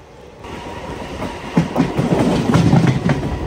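A Goa to Tirupati Express rattles along its rails, starting quietly and building into a steady, loud clickety-clack of wheels on track joints heard close from on board.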